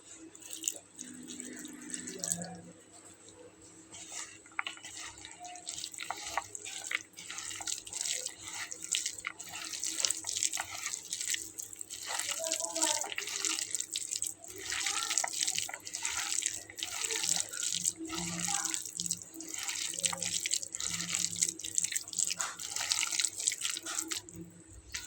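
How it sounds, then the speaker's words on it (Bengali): Water trickles in small amounts while potato pakoda batter is mixed by hand in a kitchen, with quiet, continuous splashing and wet sloshing and no talking. "তো এবার আমি এর ভেতরে অল্প অল্প করে পানি দিয়ে মাখিয়ে নেব।"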